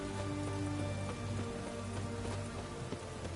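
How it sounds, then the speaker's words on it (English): Steady rain falls in The Witcher 3, a continuous soft patter over a game backdrop with faint horse hoof clops and ambient tones, with no talking. "It's raining."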